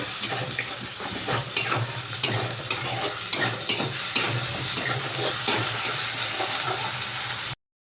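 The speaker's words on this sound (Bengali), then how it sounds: "এবার আমি যে টমেটো আদার পেস্ট বানিয়ে রেখেছিলাম সেটা দিয়ে দিলাম এবার এটা ভালো করে কষিয়ে নেব" Tomato-ginger paste sautés in a pan for a paneer curry, with a soft continuous sizzle and repeated scraping and clicking stirs of a spoon against the pan.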